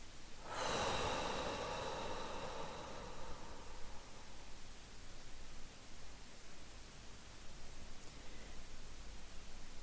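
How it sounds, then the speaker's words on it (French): A deep, slow exhalation during a guided relaxation, close and breathy at first, then fading into a long, quiet hiss of room noise. "J'expire."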